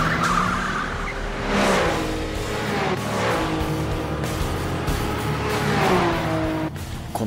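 An anime street-racing scene on a highway in which the Blackbird, fitted with a new muffler, roars past with rising and falling engine revs and tire squeal, loud and close, with brief gear-shift dips.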